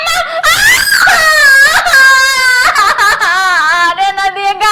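A woman screams in pain, long rising and wavering wails repeated in close, loud bursts.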